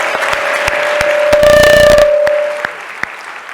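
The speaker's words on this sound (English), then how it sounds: "How about a thank you or applause to them?" Scattered clapping from an audience at a Center for Performing Arts event, with sharp, sparse individual claps around a sustained tonal whine and a brief louder burst in the middle.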